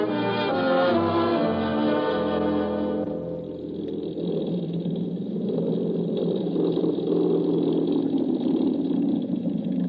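Steady engine roar of an arriving airliner, a radio drama sound effect, starts with a rich harmonic drone and settles into a continuous broadband rumble, loud and unbroken throughout.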